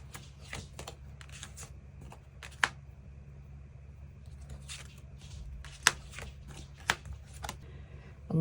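Tarot cards being shuffled and handled during a love-fortune reading, with soft repeated riffling and a few sharp snaps and taps, close up and fairly quiet, no voice.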